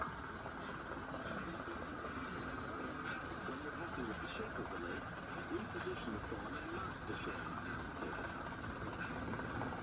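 A Bachmann BQ23-7 HO scale model locomotive runs on a vintage HO scale layout, giving a steady, continuous mechanical whir and rumble that holds at an even level throughout.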